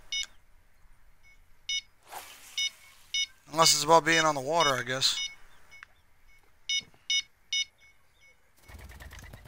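A fishing bite alarm beeps in the Fishing Planet video game, sharp electronic pips in short groups of three, broken up by a voice speaking and a warbling tone.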